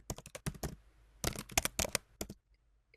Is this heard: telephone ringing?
no